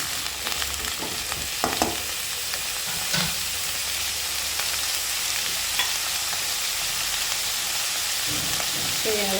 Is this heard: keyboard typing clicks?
no